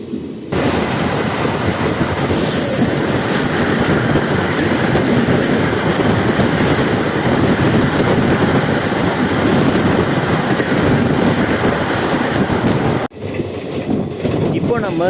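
A passenger train on the Madurai to Tuticorin line rumbles steadily along the tracks, loud and continuous with rhythmic clatter of wheels, heard from inside the carriage, with voices faintly underneath.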